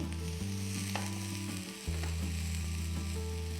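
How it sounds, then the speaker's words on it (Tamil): Ginger, onion and garlic sautéing in a pan for ginger chutney, a steady close sizzle with a low oily hum throughout, no voices. "இஞ்சியும் வெங்காயம் பூண்டு எல்லாமே கொஞ்சம் வதங்கின மாதிரி நல்லா வதங்கிடும்"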